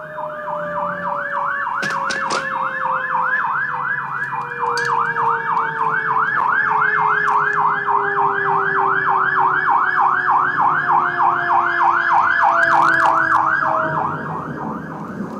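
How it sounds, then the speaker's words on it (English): A fire truck siren wails in a steady, rapid up-and-down cycle, loud and continuous as it passes, with road noise beneath and a brief clatter near the start. "Oh, fire truck."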